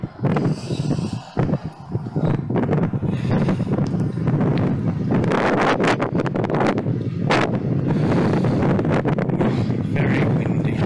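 Strong, gusty wind buffets the microphone in an old church graveyard, a heavy roaring rumble with loud blasts and rustling that continues for the whole stretch without a break.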